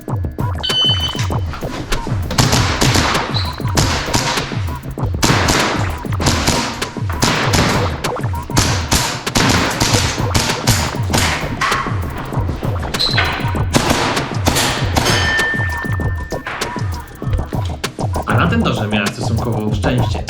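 Action Air IPSC airsoft pistol shots ring out at a Finnish national level 3 match in open class, sharp snapping pops in irregular bursts with metallic target hits, mixed with movement sounds and a voice.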